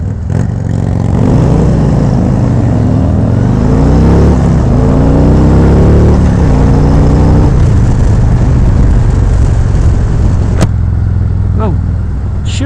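Riding a 2019 Harley-Davidson Road Glide Special on the open road: a loud, constant rush of wind buffeting the helmet over the V-twin engine's droning rumble, with pitch shifts as the bike changes speed.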